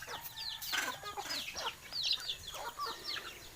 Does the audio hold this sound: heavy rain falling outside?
no